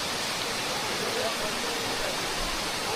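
Ermayi waterfall roaring as a steady, dense, unbroken wash of rushing water, loud and close throughout with no pauses.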